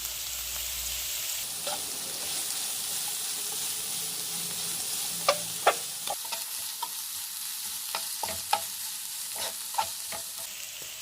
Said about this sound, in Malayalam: ഇതിനെ ഒന്ന് വഴറ്റിയെടുക്കും. നമുക്ക് ഇതിനകത്തോട്ട് ഇച്ചിരി ഉപ്പിടാമെന്നുണ്ടെങ്കിൽ എളുപ്പം വഴന്നു വരും.